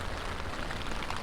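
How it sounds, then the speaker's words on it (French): Light rain patters steadily on a surface near a tent at a mountain spot beside Pralognan-la-Vanoise in the Alps, a soft continuous hiss of drops close by. "Il pleut un petit peu, c'est bien."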